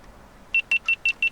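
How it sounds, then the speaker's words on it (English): Five short, sharp electronic beeps from a GoPro 10 action camera powering on, in a steady rhythm, loud and close, over a faint quiet background. "when you turn it on, you get a really loud beep."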